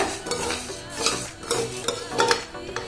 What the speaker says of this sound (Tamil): ஒரு 2 நிமிஷம் வறுத்தா போதும், நம்ம வறுத்துட்டு பார்க்கலாம்